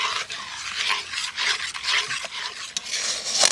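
A thickening mango and agar-agar mixture is stirred on medium flame, producing continuous close scraping and swishing of a spoon through the pan in quick, rhythmic strokes.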